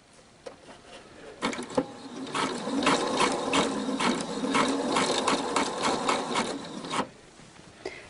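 A sewing machine stitches elastic onto fabric, starting with a few short bursts then running in a steady fast mechanical whir and rattle for several seconds before stopping, close and alone.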